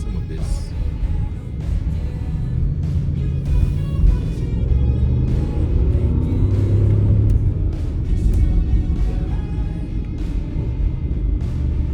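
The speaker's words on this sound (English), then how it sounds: "if you kind of drag out the revs a little bit" A 2022 Audi SQ8 engine rumbles and revs from inside the moving vehicle, its drone rising and falling steadily over road noise.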